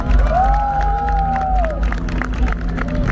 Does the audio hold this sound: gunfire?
no